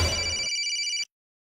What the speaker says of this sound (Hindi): इतना रात में फोन किया है?